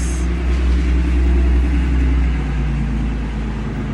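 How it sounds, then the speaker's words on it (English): A work truck passes close below a balcony, a loud, steady low engine rumble that swells and then eases slightly over four seconds, with no talk. "Sorry, work truck. I'm on my balcony."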